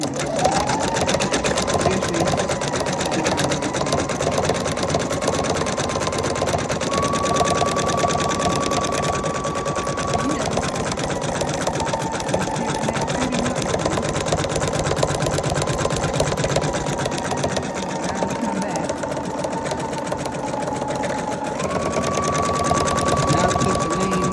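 An embroidery machine stitches a design onto a towel, giving a steady fast mechanical whir with a recurring high tonal whine that shifts pitch at intervals, close and continuous throughout.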